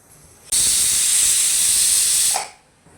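A loud, steady hiss of steam bursts out abruptly, holds for about two seconds, then tapers off quickly, like a pressure cooker venting.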